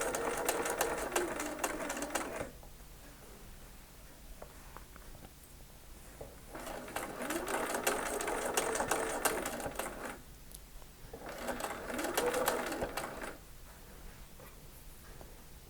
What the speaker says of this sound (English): start stitching with a few very small stitches and gradually lengthen until you're back at your normal stitch length